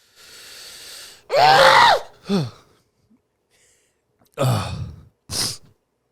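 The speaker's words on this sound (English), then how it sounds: "Did you sneeze?" A single sharp sneeze bursts out close by, with a quick intake of breath before it and a few short breathy sounds afterward.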